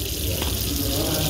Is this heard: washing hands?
yes